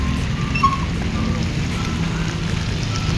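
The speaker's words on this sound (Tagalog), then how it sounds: "Umuulan pa rin po. Masama pa rin ang panahon." Rain falls steadily during bad weather outdoors on a street, a constant dense patter on surfaces with no pauses and no talking.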